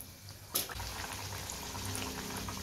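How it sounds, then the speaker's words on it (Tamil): Pieces frying in hot oil in a kadai, giving a steady, dense sizzle with a sharp crackle as a piece drops in. "எண்ணெய் நல்லா சூடாயிட்டு இப்போ இதை ஒன்று ஒன்றா சேர்த்துப்போம்."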